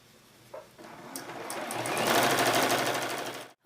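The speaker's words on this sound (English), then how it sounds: "we're just going to keep on sewing" A sewing machine stitches patchwork blocks, starting with a few clicks before the motor whirs up into a steady, rising hum of rapid stitching that runs loudly until stopping abruptly.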